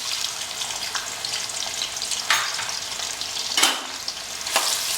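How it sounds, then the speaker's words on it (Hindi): Sliced onions frying in hot ghee, a dense, even sizzle heard close up, with a few brief louder crackles and stirring bursts along the way. "आप देख रहे हैं कि घी हमारा गर्म हो चुका है। अब हम इसे धीरे से प्याज को इसमें डाल देंगे"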